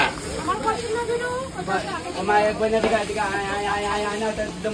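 Fish sizzling in hot oil, a steady frying hiss running throughout with a nearby voice talking over it.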